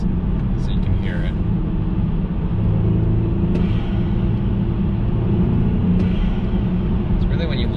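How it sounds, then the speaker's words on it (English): BMW 328i (F30, N20 engine) fitted with an Injen aftermarket air intake, revved on and off the gas: a steady loud engine drone with a few short rises and intake whooshes, under a voice talking. "I'm just popping on and off the gas for you guys, so you can hear it."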